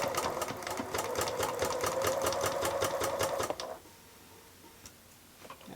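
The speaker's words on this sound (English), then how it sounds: "we're gonna do a little bit of stretching as we sew so that it will fit" Sewing machine stitching a stretched band onto the armhole of a maxi dress, a fast even run of mechanical ticks for about three and a half seconds that then stops, close and clear with no talk.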